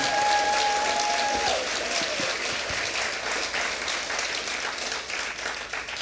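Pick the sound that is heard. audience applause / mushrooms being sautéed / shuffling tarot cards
audience applause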